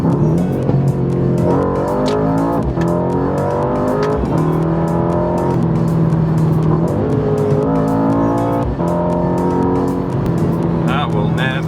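A Mercedes-AMG C63 S V8 engine revs hard and rises and falls through several downshifts and upshifts, with crackles between gear changes, loud and close, while someone talks over it.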